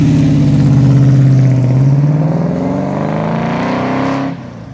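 A Phase 3-style Australian muscle car, factory built, revs its engine hard up close and alone, a loud throaty roar that climbs steadily in pitch over several seconds before cutting off abruptly near the end.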